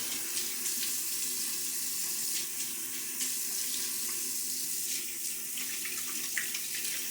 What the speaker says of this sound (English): let's do a quick water rinse